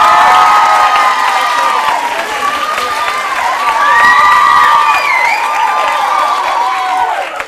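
A television studio audience applauds and cheers a guest: a loud, sustained wall of clapping with whoops and high, excited shouts riding over it throughout.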